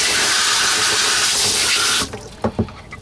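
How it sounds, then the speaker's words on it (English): Running water pours steadily from a tap over Miele C3 vacuum cleaner accessories being rinsed in a sink, a continuous close hiss that stops abruptly, followed by a few scattered drips and light clatters. "Just wash the accessories as a courtesy."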